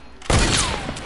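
A single loud, close sniper rifle shot in the video game Fortnite cracks after a brief quiet lead-in, then rings out in a long, fading tail.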